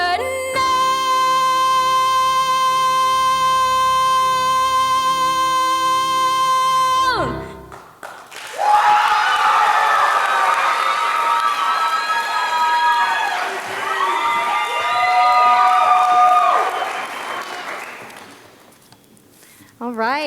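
At the Boyle County Distinguished Young Women 2024 program, a sustained musical note ends and then a large audience erupts in loud applause and high-pitched cheering and whooping after the young women's talent performance, continuing for about twelve seconds before fading.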